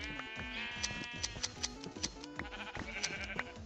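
Sheep in Minecraft bleat repeatedly over steady background game sounds, with several short wavering calls overlapping and a few sharp ticks mixed in.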